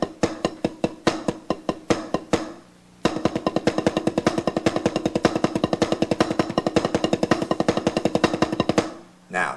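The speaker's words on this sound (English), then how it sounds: "it's 2 double paradiddles, a paradiddle, and then the same thing on the other side" A snare drum plays rudiment exercises: a few slower separate strokes, a short gap, then a long, fast, even stream of double paradiddles and paradiddles with crisp, loud, evenly spaced hits.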